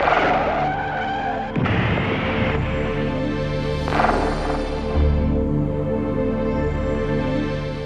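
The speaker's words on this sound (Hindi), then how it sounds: "मैं बाइक इतना फास्ट चला रहा था कि रास्ते में मेरा एक्सीडेंट हो गया" A motorbike ridden very fast skids and crashes in a road accident: a loud, sustained tire screech with abrupt scraping impacts, over a continuous roaring engine and road noise, close and intense.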